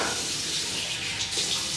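Cold tap water running steadily into a bathroom sink for face washing, a continuous close, bright splashing rush with no talk.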